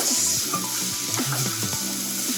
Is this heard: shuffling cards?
no